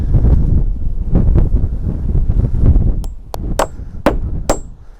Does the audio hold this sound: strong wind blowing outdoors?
yes